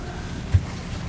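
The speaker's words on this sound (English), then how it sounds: "Sailing in the harbour." A sailboat under sail in a harbour in an 11-knot nor'easter, moving at about 2 knots: steady wind rush and water wash with one brief low thump midway.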